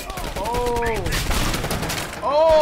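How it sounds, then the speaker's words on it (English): Gunfire from Call of Duty: Black Ops Cold War during a story campaign mission, a loud sustained burst of shots filling the clip with tonal game sounds layered over it. "Oh, there goes my gun."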